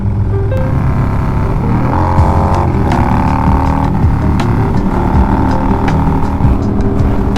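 Harley-Davidson Low Rider S motorcycle with a swapped-in 131 engine cruising at about 40 mph in third gear, a steady loud engine drone with slight pitch shifts throughout, mixed with wind rush and no talk.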